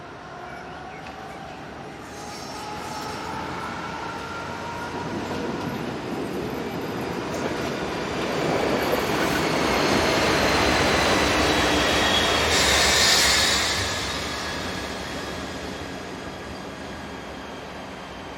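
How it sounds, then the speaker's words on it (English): A locomotive runs back to the station, a steady rolling rumble with faint wheel squeal and high metallic whine that swells gradually toward the middle and fades slightly, heard from some distance. "After completing its duties, the locomotive returns to the station."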